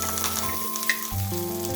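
Chili powder frying in a little hot oil sizzles loudly and steadily, a close, continuous crackling hiss with a faint stir in the middle and no voices.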